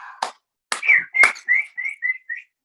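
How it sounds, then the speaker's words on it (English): A man whistles a short tune live before an audience, with two sharp breathy bursts followed by a run of clear sustained notes, loud and close. "It's the best I could do on my whistling"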